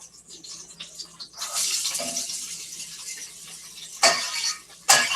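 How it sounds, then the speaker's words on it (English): Sweet onions dropped into a hot pan set off a sudden broad sizzle that holds steady, with a couple of sharper splattering bursts near the end. "I'm going to go ahead and drop these onions in"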